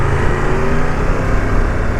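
A Triumph Tiger 1200 GT Explorer motorcycle engine runs at a steady loud rumble, heard close with wind roar over it and no clear revving.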